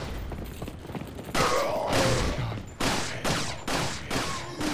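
Shotgun blasts in Resident Evil 4, the HD PC release, fired in a castle: a run of loud, sharp booms, several spaced about half a second to a second apart, each with a short mechanical tail, over steady background game noise.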